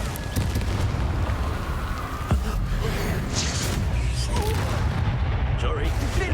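Confringo fire spell explosions in the Hogwarts Legacy game, a dense, continuous roar of booms and blasts with a sharper bang partway through, under a voice casting spells.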